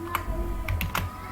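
Typing on a computer keyboard, a few light, uneven key clicks heard close and quiet over a steady low hum.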